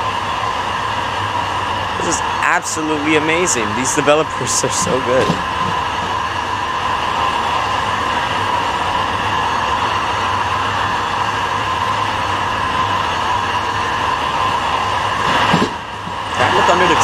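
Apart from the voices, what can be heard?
train in the Roblox video game Trainware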